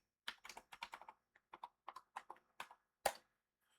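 A computer keyboard is tapped to enter a password for a Cisco switch: a quick run of separate, close keystrokes, ending in one firmer press like the Enter key, in an otherwise quiet room.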